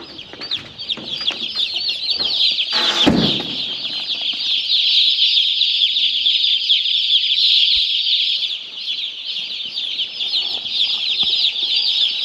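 A dense, continuous chorus of chicken clucks and chatter, with a burst of wing flapping near the start, close and steady throughout.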